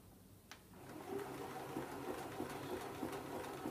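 A Bernina sewing machine stitches through fabric, a steady rapid mechanical whir with a faint rhythmic ticking that starts after a single click and runs evenly to the end, close and moderately loud, with no talking.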